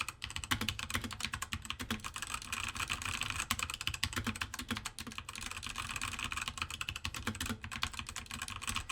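A mechanical keyboard fitted with Altemu brown switches is typed on continuously for several seconds, dense and even keystrokes clacking up close, with no voices.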